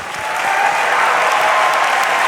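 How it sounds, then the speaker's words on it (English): Loud, continuous audience applause at a world cubing championship 3x3 final, a dense wash of clapping rising in the first moment and then holding steady, with no one talking over it. "Well-deserved applause from the audience as well."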